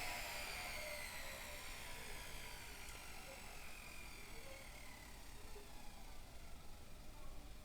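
The small electric motor of a 1:72 scale Mi-8T model helicopter whirs with a high, buzzing rotor drone. It winds down gradually and stays fairly faint and steady throughout.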